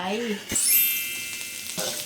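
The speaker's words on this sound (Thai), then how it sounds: "น้ำมันร้อนใส่กระเทียมซับลงไป" Hot vegetable oil sizzles steadily in a pan as chopped garlic is dropped in and stirred, with brief scraping and clinks of a utensil.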